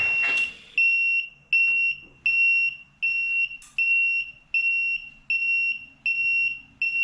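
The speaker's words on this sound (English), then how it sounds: "It has an alarm that's very loud." A Stratus mid rise car lift sounds its loud, high-pitched warning alarm as it lowers, a series of about nine sharp, evenly spaced beeps after a brief rustle, with no talk.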